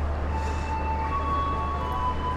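The Batara Kresna executive train pulls out of the station toward the depot after passengers alight, a steady low rumble with a faint high tonal whine running throughout.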